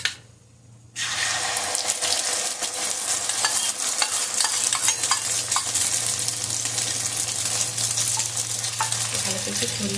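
Beaten egg mixture for a cheese omelette hits a hot pan with a sudden loud sizzle after a quiet moment, then frying continues as a steady close hiss with a faint low hum, no talking.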